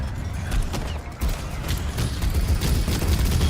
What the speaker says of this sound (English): So right now I'm using these, they're called chain guns or something like that. It's just a minigun pretty much.